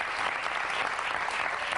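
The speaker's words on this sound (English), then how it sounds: "Thunderous applause." A live comedy show audience breaks into a short, full burst of applause, a thick, even roar of clapping hands that stays at one level from start to finish with no voices above it.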